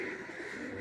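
Pigeons coo softly in a steady, low murmur on a rooftop loft at Kharialah Sarai Alamgir, with a faint hum of surroundings and no talking.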